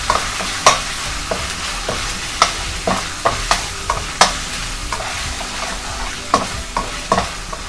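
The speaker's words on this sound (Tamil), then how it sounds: "நம்ம ஜீரகம், கறி லீவ்ஸ் போட்டுருக்கோம். தாளிப்போம்." Cumin seeds and curry leaves sizzle in hot oil for a tempering, a continuous crackling hiss close up, punctuated by repeated sharp pops and spatters as the spices bloom, with no voices.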